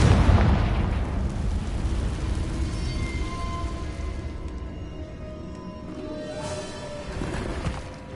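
A Confringo spell blasts in the Hogwarts Legacy game, a loud burst that opens the clip and then rumbles down into a long, fading roar of debris and echo lasting several seconds.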